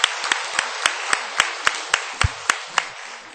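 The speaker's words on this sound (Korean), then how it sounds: "박수 한번 쳐주세요" A church congregation claps in a steady, evenly spaced rhythm, sharp distinct hand strikes about four per second over a soft room background, fairly close and moderately loud.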